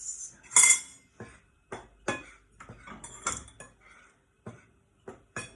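A utensil scrapes and clinks against a bowl while chocolate cupcake batter is mixed, giving irregular close-up taps and knocks in an otherwise quiet room.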